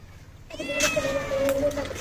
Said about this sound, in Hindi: ये मानो बिल्ली क्यों माई माई कर रही है?